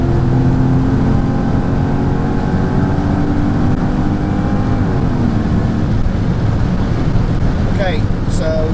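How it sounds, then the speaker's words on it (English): A supercharged Mercedes-Benz E55 AMG W210 with a Kleemann 55-K2 supercharger and a misfire runs at wide open throttle, a loud sustained engine roar that climbs in pitch and then settles into a rough, steady drone. "that's wide open throttle there, and no limp mode"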